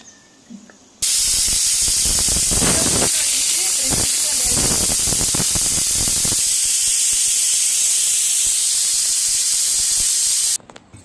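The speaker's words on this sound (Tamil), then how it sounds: "விசில் அடங்கிடுச்சு இப்போ நம்ம வந்து ப்ரெஷர் எடுத்தாச்சு" A loud, steady hiss of steam blasts from a pressure cooker cooking mushroom biryani, released by hand after the whistles, for about ten seconds, with sputtering bursts early on, then cuts off abruptly.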